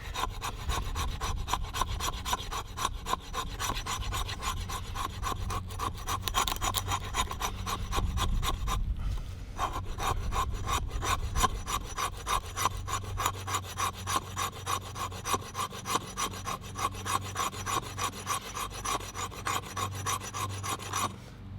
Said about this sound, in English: going to do the same thing with the fat wood, which does actually typically scrape a little bit easier